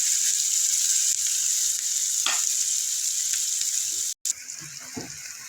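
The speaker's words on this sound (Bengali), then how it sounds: "পেঁয়াজ আর কাঁচামরিচ লাল লাল করে ভেজে দেব" Onion and green chilli fry in a pan for red amaranth greens, a steady loud sizzle with a few stirring scrapes and a brief cut near the end.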